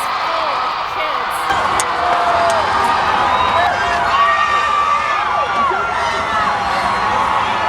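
A crowd full of kids cheers and shrieks with excitement, high-pitched squeals rising and falling over a busy wash of noise, with people talking mixed in.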